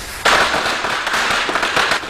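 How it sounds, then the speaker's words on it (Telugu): Firecrackers set off by children in a residential colony burst in a dense, continuous crackling volley, loud and close, sustained for nearly two seconds. "దీపావళి కాదు కానీ క్రాకర్స్ పేలుతున్నాయి"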